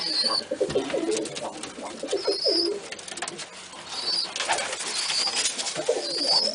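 A pigeon coos in several rounded, repeating phrases close by, with brief high chirps from other birds between the calls.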